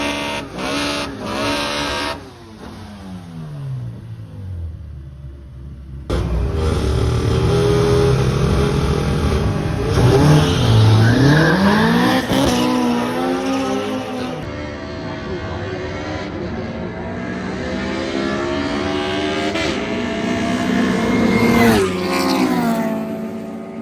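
A Honda and an Audi launch down a drag strip, engines roaring loud and close with rising revs and gear changes, the sustained high-power wail carrying for many seconds amid crowd noise.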